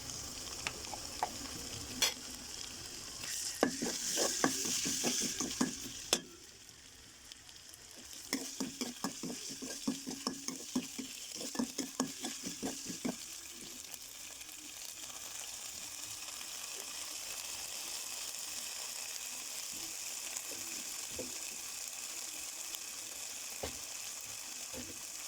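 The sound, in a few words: ginger paste frying and being stirred in a pan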